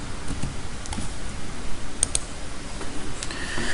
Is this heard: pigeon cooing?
no